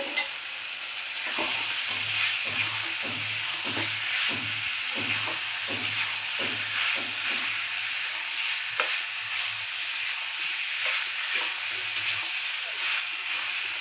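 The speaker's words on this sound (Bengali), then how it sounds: "তেল ছেড়ে গেছে, আমি এই কাবলি চানার সেদ্ধ করাগুলো দিয়ে দিলাম" Boiled kabuli chickpeas sizzle in hot oil in a pan, with a constant frying hiss and a steady run of scraping stirring strokes that continues throughout.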